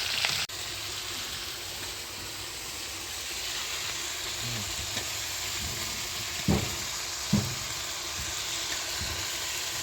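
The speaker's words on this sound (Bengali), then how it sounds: "সব কিছু এভাবে নেড়ে নেড়ে তারপরে ভাজতে হবে।" Fish frying in a pan for a village-style fish dish, a steady broadband sizzle with a few sharp stirring scrapes and clacks near the middle and end, no talk.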